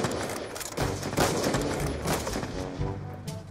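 Gunfire in Black Ops 2 during a one-on-one match, a rapid string of close, punchy shots running continuously for a few seconds over game noise.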